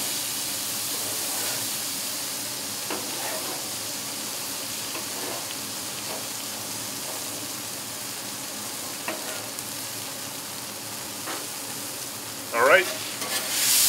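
Vegetables and onions sizzle loudly and continuously on a very hot outdoor hibachi-style griddle top, with light spatula scrapes and a brief louder clatter near the end. Someone speaks briefly.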